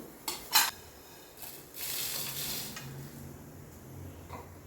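Cumin, fennel and a black cardamom pod dry-roasting in a pan, with a couple of sharp metallic clinks from a utensil, then a soft, steady rustle and faint scraping as the spices are moved around.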